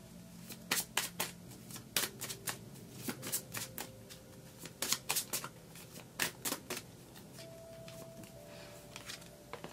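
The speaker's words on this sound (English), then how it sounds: "we're going to start picking some tarot" Tarot cards are shuffled by hand at close range in quick, crisp riffling bursts and flicks separated by short pauses, fairly quiet, with no speech over them.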